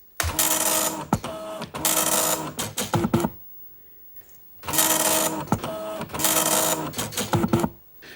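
An Amstrad DMP 2000 dot matrix printer prints in loud buzzing bursts, each pass a dense rasping chatter broken by clicks of carriage return and paper feed, with a brief quiet pause midway.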